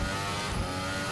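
A Formula 1 car runs flat out around Monaco in a racing simulator, with DRS open, its engine a steady high-revving whine held loud and close without a break.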